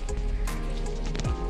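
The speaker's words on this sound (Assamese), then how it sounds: "যোৱাকালিৰ পৰা খুব বৰষুণ।" Heavy rain falling during a stormy spell: a continuous dense patter on surfaces, fairly loud and close, mixed with faint tonal background sounds.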